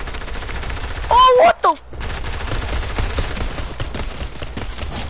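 Pistol gunfire in a video game, a quick burst of sharp shots cutting through game audio, followed by a player's startled exclamation.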